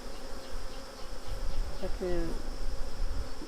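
Honeybees buzz close by at a beekeeping site during an official provincial inspection, a steady insect drone that swells into a louder, nearer pass about midway through the clip.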